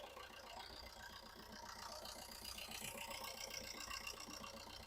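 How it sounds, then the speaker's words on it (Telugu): A 2012 Maruti Ertiga ZDI diesel engine idles with a steady, even low rumble and a faint rhythmic beat, heard quietly and without any talking. "ఇంజన్ బీటింగ్ అయితే చాలా నీట్గా ఉంది."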